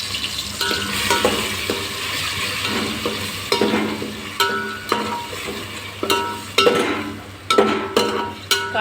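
A paste of ground onion and coconut fries in hot oil in a pot with a loud, continuous sizzle, while repeated stirring scrapes and knocks come through close by.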